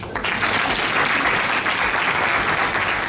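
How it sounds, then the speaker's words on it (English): Wedding guests at a marriage ceremony in Ouagadougou, Burkina Faso, break into steady, full applause that fills the room and holds at an even level throughout, with no speech over it. "Ça s'applaudit."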